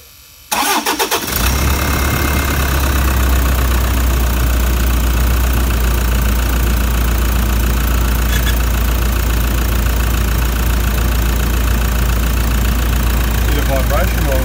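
Diesel engine of a Toyota Prado 150 cranks briefly and catches, then settles into a steady, loud, close idle with a continuous low rumble that runs to the end after the timing belt work.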